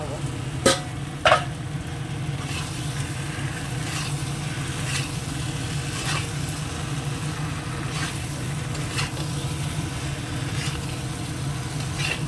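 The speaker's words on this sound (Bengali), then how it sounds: "এবার ডিম আর আলুটা দিয়ে একটু কষিয়ে" Egg and potato frying in a spice masala, a continuous sizzle with a low background hum, marked by a couple of sharp utensil knocks near the start and soft stirring scrapes throughout.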